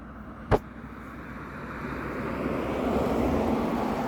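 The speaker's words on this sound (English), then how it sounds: "So here comes another vehicle." A vehicle passes on a road outside with a dog on a leash nearby, a rising broadband rush that swells steadily and stays loud at the end, with wind across the microphone and one brief sharp knock near the start.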